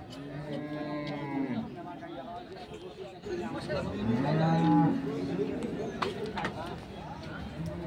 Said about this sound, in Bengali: এখানে অনেক বড় গরু ছাগলের হাট বসে।